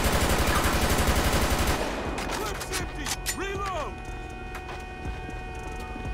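Gunfire in GTA 5 with the LSPDFR police mod: dense rapid shots at the start, then scattered shots and bursts over engine noise and radio chatter, as people talk throughout.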